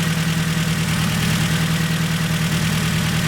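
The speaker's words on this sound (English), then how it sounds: "but it's still got a misfire there." A Ford Focus RS engine idling with a misfire, a loud, close, steady low drone with an uneven pulsing undertone and no talking.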